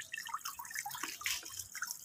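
Fresh mint leaves are washed by hand in a cup of water, with soft, close splashing and dripping sounds continuing unevenly throughout, with no talking.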